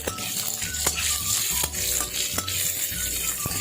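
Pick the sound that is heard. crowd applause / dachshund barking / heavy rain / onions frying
onions frying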